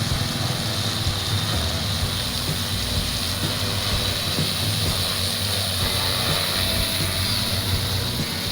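A steady, dense buzzing drone of an agricultural drone's small propellers whirs continuously and loudly, unchanging throughout with no voices.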